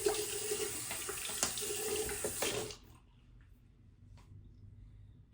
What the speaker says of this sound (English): Let's go ahead and wet my face a little bit